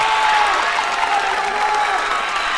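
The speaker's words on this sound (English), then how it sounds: "round of applause for Jordan McDowell" At a band camp, a crowd gives a performer a round of applause. Dense, loud clapping holds steady from start to end with a faint murmur of voices mixed in.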